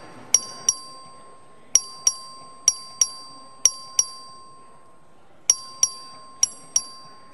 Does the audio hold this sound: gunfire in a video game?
no